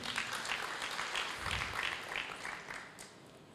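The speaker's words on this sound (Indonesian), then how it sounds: "Berikan tepuk tangan yang meriah." Congregation applauding during a church sermon, a steady wash of many hands clapping at moderate volume, fairly distant and diffuse, holding for a few seconds before easing slightly.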